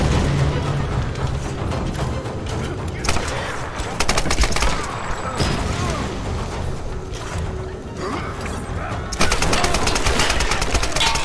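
Gunfire crackles in the video game Tomb Raider: rapid bursts of loud shots and metallic clatter in dense volleys, with crashes and mechanical noise mixed in.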